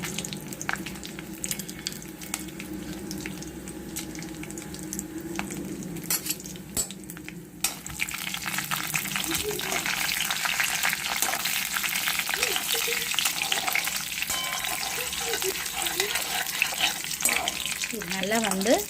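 Urad dal and chana dal frying in oil with broken dried red chillies, a soft sizzle and scattered clinks at first, then a louder, denser crackling hiss that keeps up until the end.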